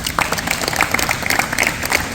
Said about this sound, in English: Let's clap it out for him, fella.